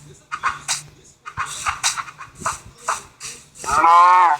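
A cow in Minecraft gives one drawn-out, fairly loud moo at the end, after a stretch where a voice talks over the game.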